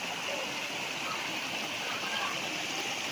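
Spring water flows steadily on a farm lot in Lucban, Quezon, where people bathe and do laundry, making a continuous close rushing wash with no breaks.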